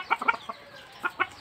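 A male Aseel chicken on a farm gives short clucks in a few quick bursts, close and clear over a quiet background, with no talking.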